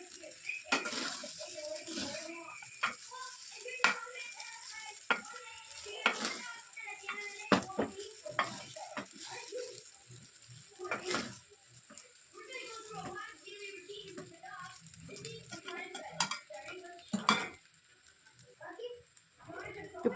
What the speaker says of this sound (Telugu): ఇవన్నీ మంచిగా మిక్స్ అయ్యేటట్టు మంచిగా కలుపుకోవాలి